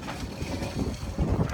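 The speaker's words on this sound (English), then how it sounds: "13 knots of wind now. We have both sails up, full sails." Steady wind rushing around a sailboat under both full sails in about 13 knots of breeze at sea, a continuous broadband roar with low buffeting gusts and no voices.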